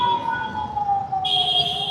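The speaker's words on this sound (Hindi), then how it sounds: "ओह साला वो एम्बुलेंस चिल्ला रहा है" Ambulance siren wails through Bangalore traffic, a close, loud sweeping tone that slowly glides down in pitch and then gains a higher shrill layer, over the rumble of the street.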